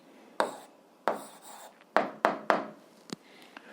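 Handwriting an algebra answer with a pen on paper: about five or six short, scratchy strokes in quick bursts with brief pauses, heard close and alone with no talking.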